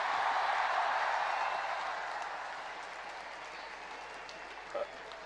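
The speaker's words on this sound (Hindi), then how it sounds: "एक बार जोरदार तालियों से इनका स्वागत करिए।" An audience applauds at an Indian awards ceremony honouring Olympic silver medallist wrestler Ravi Kumar Dahiya, the dense clapping strong at first and then fading steadily.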